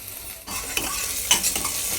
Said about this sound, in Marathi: आता हे परतून घेऊया।